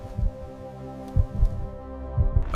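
Heartbeat sound effect set under a Mars crater scene: three deep, booming double thuds spaced about a second apart, each loud and low over a steady droning hum with no voices.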